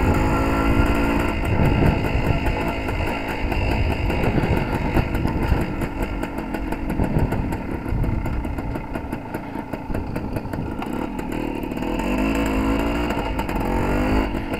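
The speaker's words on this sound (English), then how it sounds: "Usually two-stroke a little bit burbly when they're not under load." A Suzuki TS185 two-stroke motorcycle engine runs after ignition work, its loud, close, burbly, uneven putter continuing throughout with no talk over it.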